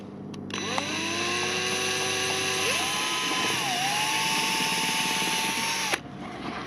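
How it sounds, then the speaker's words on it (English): A power drill bores a mounting hole for a police interceptor light, its steady high whine rising in pitch as it spins up, shifting slightly mid-cut, then stopping abruptly. "Let's drill the other side."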